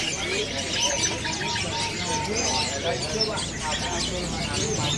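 Mandarin bird, called foxai mandarin, chirping in a bird shop, with a dense run of high tweets over steady chatter from other caged birds. A person talks throughout.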